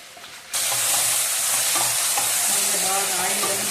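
Eggplant pieces drop into hot oil and burst into a loud, steady sizzle that continues without pause, close up, with faint stirring underneath.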